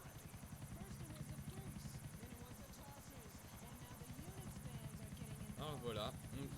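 A video game helicopter's rotor thumps steadily throughout, a loud continuous chop with a steady engine hum, while someone speaks over it.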